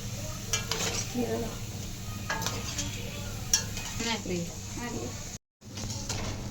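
Gulab jamun frying in a pan while a spoon stirs them, giving scraping clinks and a steady low sizzle, with a few louder utensil knocks and brief pauses.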